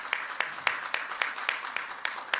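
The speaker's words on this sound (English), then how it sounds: "Please give him a round of applause." Applause at an official signing ceremony, a smaller group clapping in distinct, fairly regular sharp claps, close and moderately loud, with no talk over it.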